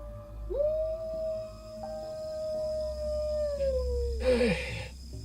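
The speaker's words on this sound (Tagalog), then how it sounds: "Hindi maganda ang pakiwari ko sa sunod-sunod na alulong na ito." Dogs howl outdoors at night, one long, steady, drawn-out howl that rises, holds and then falls away, with a second voice briefly joining near the end; the howling is close and clear over a low background rumble.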